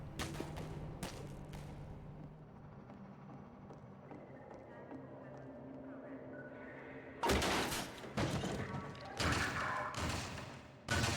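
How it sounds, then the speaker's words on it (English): In Half-Life 2 or DOOM 3, the player comes under fire. A few early thuds give way to a quieter, murmuring stretch, then loud gunfire bursts and heavy impacts break out close by near the end. "Are they shooting at me? I think so."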